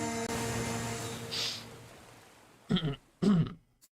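A man coughs and clears his throat twice in quick succession, loud and close, after a stretch of steady game background noise.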